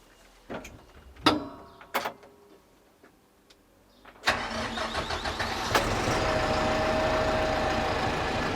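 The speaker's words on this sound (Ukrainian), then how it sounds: "а зараз давайте запустимо трактор" A few knocks and clicks, then a 90-horsepower KIY tractor engine cranks and catches, settling into a loud, steady idle that rumbles on to the end.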